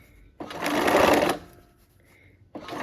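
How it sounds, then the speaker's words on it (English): Domestic sewing machine stitching a few stitches through quilting fabric during curved piecing, a loud continuous whir lasting about a second, then quiet before the motor starts again. "give ourselves a few stitches to hold that down"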